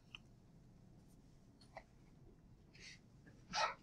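A single sneeze bursts out near the end of a quiet lecture-hall stretch, preceded by a couple of faint breaths and small sounds over low room hum.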